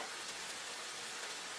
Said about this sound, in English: I'm going to try to get the pieces flat and let this saute until all the juices are sauteed away